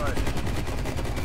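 Rapid gunfire from the video game Call of Duty: Black Ops Cold War, with dense, overlapping bursts that stay loud and continuous the whole time and voices mixed in.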